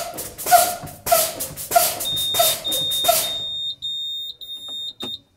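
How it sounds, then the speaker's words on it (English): Loud pulsing bursts give way to a steady, piercing electronic buzz that drones on, broken near the end by a few short beeps: a truck's low air pressure warning buzzer sounding as brakes are pumped down to about 60 PSI. "There's the warning buzzer."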